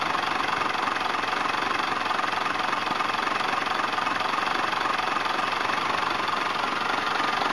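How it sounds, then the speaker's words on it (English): An old car idling steadily after sitting unrun for about a month, a continuous rough, knocking engine drone heard close and loud without pause, with no talk over it. "it starts and idles."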